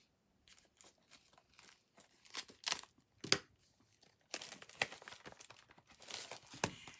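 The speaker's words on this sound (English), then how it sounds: "I think I better use some scissors here instead of my fingernails." Scissors cut open a plastic-wrapped package of note cards and envelopes at close range, with faint snips and crinkling that grow louder toward the end.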